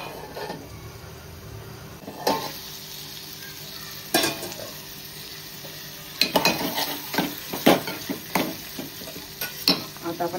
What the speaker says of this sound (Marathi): आता आपण झाकण देऊ आणि 1 मिनिट परतून घेऊ कोळंबी